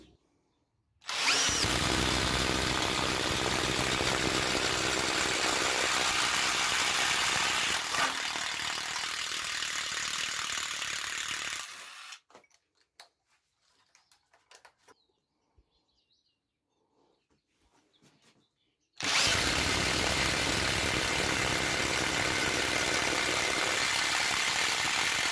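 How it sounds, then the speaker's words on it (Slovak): Two impact drivers boring 28 mm holes into soft spruce wood at full power, a loud sustained whirring bore for about ten seconds, a quiet gap with faint knocks, then a second loud burst. "pokračujeme vrtaním priemeru 28 mm do mäkkého smrekového dreva na maximálnej síle u obidvoch modelov"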